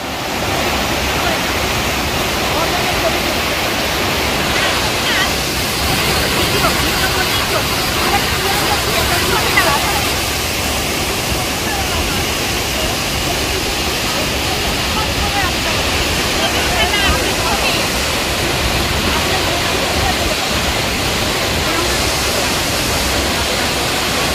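A waterfall roars in a steady, loud, broadband rush that never lets up, with people's voices faintly mixed into the constant wash of falling water.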